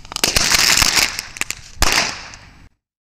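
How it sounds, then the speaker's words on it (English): A mock news broadcast cuts to a bomb explosion: a dense burst of loud, sharp cracks and crackling lasting over two seconds, with a second strong blast near the end before it cuts off abruptly into silence. "Was that the bomb?"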